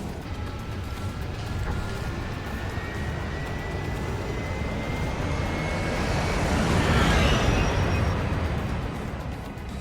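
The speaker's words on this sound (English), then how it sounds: "Can we just talk about how cool these helicopters are?" Helicopters in the Astral Chain video game give a steady, broad engine roar that swells louder around the middle of the clip with a faint rising whine, with no talk over it.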